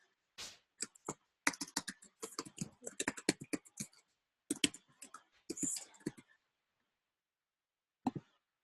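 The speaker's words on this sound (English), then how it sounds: "So I am going to type in" Computer keyboard keys clack in quick, close bursts while a name is typed into an online form, a brief pause breaking the run and a final lone keystroke after a long silence.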